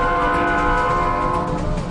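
Train sounds dominate a short burst, with a sustained tonal, horn-like or bell-like drone over low rumbling rail noise, loud and close and with no talking.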